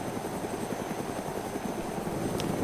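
Helicopter in DayZ flies with a steady, loud rotor thump and engine roar that fills the whole stretch without letting up, heard close from the cockpit.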